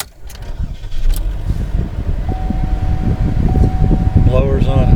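Chevrolet HHR starting up with the heater blower fan on high, giving a steady, close whooshing roar of engine and air with a thin whine from the blower motor running throughout.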